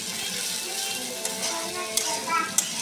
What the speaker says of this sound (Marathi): अजून एक वेळा अजून परतून घ्यायचं बरोबर.